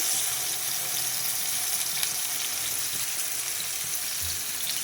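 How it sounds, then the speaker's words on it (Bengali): Plenty of hot oil sizzles in a pan for frying dried lota fish, a steady, even hiss that runs throughout with no talk over it. "এখন আমি এখানে তেল দিয়ে দিব, তেলটা একটু বেশি দিব, ভাজা ভাজা করব যেহেতু।"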